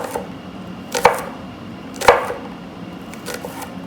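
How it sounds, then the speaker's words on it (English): A kitchen knife slices garlic on a cutting board, giving two sharp, close knocks about a second apart, with a fainter tap near the end, against low background hum and no talk. "take our knife, and slice it down into thin slices"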